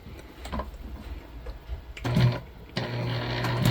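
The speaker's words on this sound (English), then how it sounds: "we're gonna stitch at a 1/4 inch seam allowance all the way around all 3 open sides" A sewing machine stitches seams on a placemat being made into a book sleeve, sounding as close mechanical whirring in short bursts, with a brief pause and then a longer steady run of rapid stitching.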